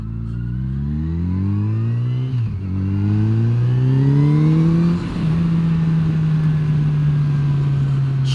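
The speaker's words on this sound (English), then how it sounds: "That engine sounds gorgeous." A Yamaha FJR 1300 motorcycle engine accelerates through the gears, its loud rising drone climbing in pitch, dipping briefly at a shift, then climbing again and settling into a steady high cruise hum.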